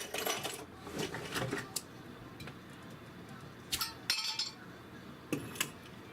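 A jar of cranberry raspberry jam is handled and opened, giving scattered glassy clinks, taps and a lid scrape in short separate bursts, close and fairly quiet.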